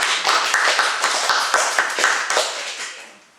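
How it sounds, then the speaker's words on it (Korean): Big applause opens an alumni mentoring session at the Korea Communications Agency, with an audience clapping densely and evenly for a few seconds before the sound tapers away. "우선 큰 박수로 시작을 할게요."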